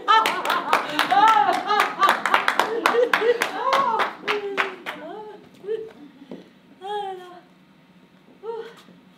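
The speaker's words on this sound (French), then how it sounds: "je vais aller applaudir quelqu'un dans la rue" Hands clapping in a street to applaud someone, a quick steady run of sharp claps mixed with voices that thins out after a few seconds, leaving scattered voices and a final short burst.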